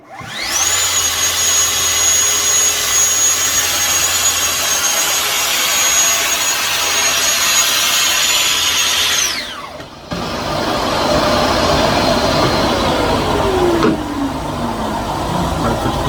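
A Festool dust extractor running at a workshop docking station, a loud steady whine and roar that briefly dips with a clunk when the blast gate operates, then keeps droning close by with no talking.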